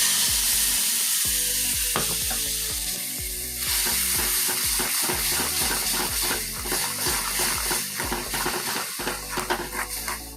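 Spice paste of rice, yogurt, ginger and cumin frying in hot oil with whole cumin seeds, a steady close sizzle broken by repeated scraping and stirring clicks, with no talk.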